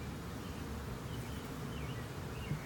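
A honey bee swarm hums with a steady, dense drone of many wings while it is moved from a trap into a new colony, with faint rustling and light handling noise underneath.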